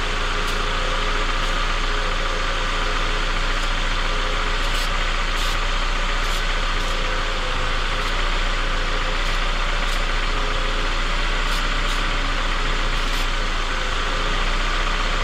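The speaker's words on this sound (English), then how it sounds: "with the engine idling at operating temperature" Honda car engine idling at operating temperature, a steady low rumble with constant hum and no rise in revs, heard up close without talk.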